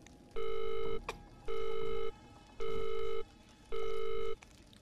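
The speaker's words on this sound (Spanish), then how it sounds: "Estoy esperando el teléfono, pero no coge nadie." A telephone in the Visage horror game rings on without an answer, four steady electronic bursts in an even rhythm, clear and prominent over a quiet background.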